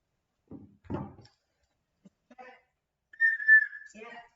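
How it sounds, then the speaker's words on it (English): Short whistle sound effect, a thin steady tone near the end after a few scattered knocks and faint noises in an otherwise quiet room. "Is the whistle working?"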